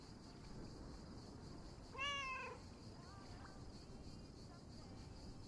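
A cat meows once in a video game set around a lake and bait shop, a short, faint cry over steady wind-like ambient noise, followed by a softer chirp.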